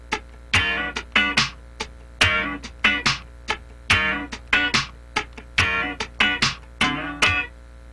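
Close, solo funk guitar chops a syncopated rhythm, with the fretting hand lifting on the third sixteenth to cut chords short, leaving crisp stabs and muted scratches in an uneven, bouncing repeating pattern.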